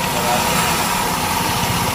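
A Maruti car engine idles on LPG, a steady, rough low rumble with constant vibration and no changes in revving across the short span.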